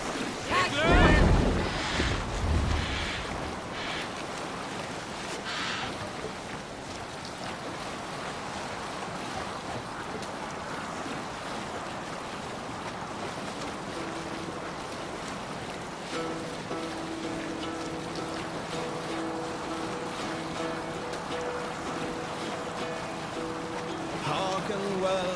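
A Viking longship sails the open sea in Assassin's Creed Valhalla, with steady wind rushing and waves washing along the hull, a loud splash near the start, and voices chanting and calling over the sea.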